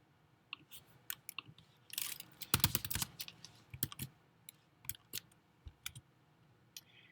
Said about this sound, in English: So let's just click on a random one and download it into our honeypot.